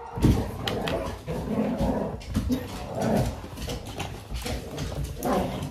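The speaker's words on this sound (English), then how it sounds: "I can't leave the background dog noise behind" A dog barks intermittently in the background of a home in a family vlog, with short bursts scattered across the clip amid faint household movement.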